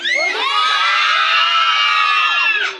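A group of children at a police safety awareness session shout and cheer together loudly and continuously for a few seconds, a dense wall of high excited voices.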